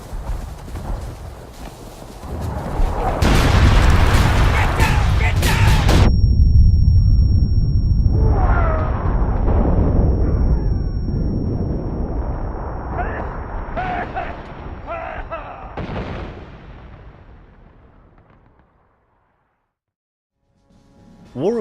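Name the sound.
artillery fire in War of Rights Civil War video game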